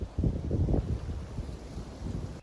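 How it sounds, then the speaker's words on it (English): Gusty outdoor wind buffets the microphone, giving a loud, low, uneven rumble that swells and eases without pause, with no voices. "We're not gonna be able to hear squat with all this wind."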